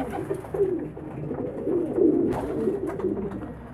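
Pigeons coo continuously at close range in a loft or coop, a low throaty rolling murmur with overlapping calls and no talk.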